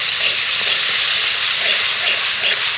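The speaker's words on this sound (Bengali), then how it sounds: "এবার এই মশলাটা আমি ভালো করে কষাবো" Spiced masala paste with a little sugar and water frying hard in hot oil for a soybean omelette curry, a loud, steady, dense sizzle and hiss that carries on without a break, with no voices.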